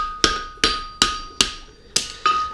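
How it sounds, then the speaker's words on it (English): A farrier's hammer strikes a horseshoe on an anvil while the shoe is shifted along it, six sharp ringing blows at a steady, slightly uneven pace, loud and close, each leaving a short metallic ring. "Just move the shoe up and down the anvil. Keep my hammer in the same place."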